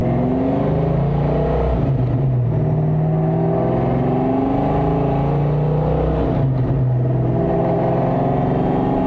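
A car driven with its engine droning steadily at close range, pitch rising and falling as it accelerates and eases off, with no talk over it.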